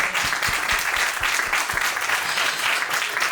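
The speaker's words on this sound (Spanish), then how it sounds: "Aplauso para Montipeiro" An audience applauding at a live comedy show, dense steady clapping from many hands filling the space at moderate loudness, continuous throughout with no speech.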